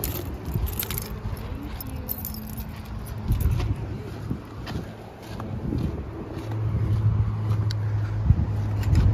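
Keys for a 1956 Chevy wagon jingling in short, scattered metallic bursts, close by, over a low vehicle rumble that grows steadier toward the end.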